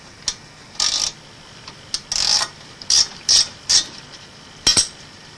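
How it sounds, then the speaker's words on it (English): A 14mm spanner loosens the bolt at the base of a bicycle brake caliper, giving a series of short, sharp metallic ratcheting clicks in separate bursts, close and fairly loud against a quiet background. "We will use a 14mm spanner on the bolt at the base of the caliper."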